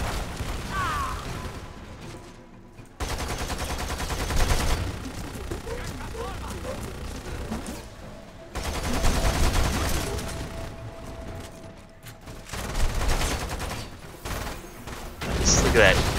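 A Gatling gun in Lost Planet 2 roars in long sustained bursts of rapid fire with mechanical whirring, broken by short gaps. Voices talk over the shooting.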